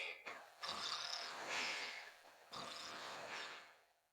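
A person imitates snoring with two long, breathy, rasping snores, close and soft, and no talk alongside.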